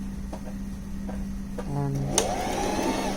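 A bernette b05 sewing machine runs a straight stitch with a steady motor hum and a faint rhythmic ticking from the needle. Its pitch shifts partway through as the speed changes.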